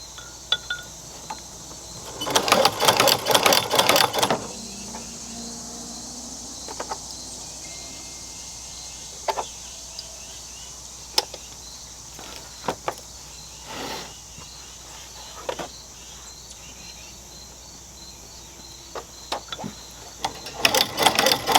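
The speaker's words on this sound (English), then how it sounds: "Now I need to sew these together." A sewing machine stitching together fabric pieces of a Coleman oven koozie, with two loud close bursts of rapid whirring, one early and one at the end, separated by a long quiet stretch of faint clicks and handling.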